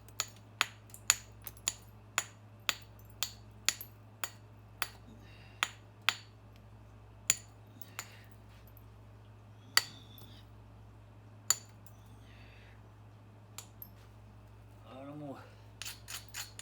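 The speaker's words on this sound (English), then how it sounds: "I'm gonna hit down and create a platform on them and do some heavy grinding" Flint knapping with a billet against a flint platform edge, a series of sharp, crisp taps and scrapes, rapid at first and then spaced out, close and fairly quiet over a low hum.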